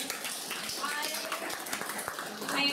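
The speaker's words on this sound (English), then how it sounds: "I think we really have to give a round of applause to the organizers and to each other." Attendees at a Women in Blockchain meetup in Tel Aviv clap for the organizers and each other, a soft, diffuse spatter of scattered hands in a room, fairly faint and irregular, with a few sharper claps standing out.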